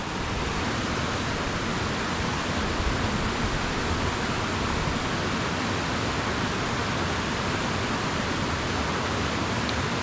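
A small waterfall on a little trout stream pours continuously, a loud, steady, dense hiss of falling water that stays unchanged throughout with no voices.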